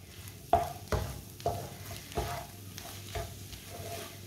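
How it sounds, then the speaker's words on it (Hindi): Egg and spinach curry being stirred in a pot, with a series of distinct scraping strokes over a low sizzle, loud and close, with no voices. "अच्छी तरह मिक्स करके इसे 1 मिनट के लिए पका लेंगे।"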